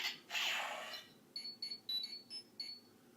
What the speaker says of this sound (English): Again, communicator beep.